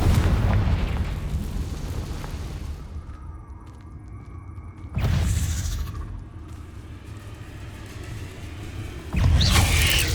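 In the Hogwarts Legacy video game, the Confringo fire spell sets off loud booming blasts, one at the start and others around five and nine seconds, each with a rumbling tail and no talking.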